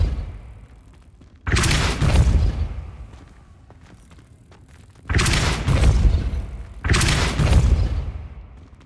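Depulso force-push spell impacts in Hogwarts Legacy: three heavy, booming blasts land a few seconds apart. Each is loud and close and decays into quieter game ambience between hits.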